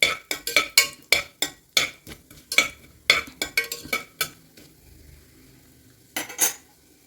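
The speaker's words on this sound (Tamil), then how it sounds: "பொரிஞ்சோடனே நம்மளோட தக்காளி, வெங்காயம், பச்சை மிளகாய் எல்லாம் நம்ம நல்லா வதக்கிக்கலாம்" Tomatoes, onions and green chillies are sautéed in a pan for nombu kanji, heard mostly as sharp, close spatula knocks and scrapes against metal in an irregular rhythm, with only a faint sizzle underneath.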